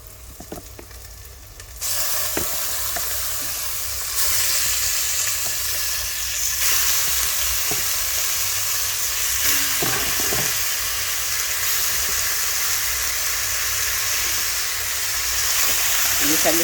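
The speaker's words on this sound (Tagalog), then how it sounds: "Gisa-gisa muna natin ito siya guys para mabawasan ang langsa" Chicken being sautéed in a pan with browned onion and garlic for a Filipino humba, a steady close sizzle and hiss with occasional stirring scrapes that runs throughout.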